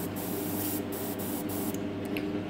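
An airbrush sprays Vallejo primer in a steady, soft hiss that runs close and continuous, with slight breaks in the airflow.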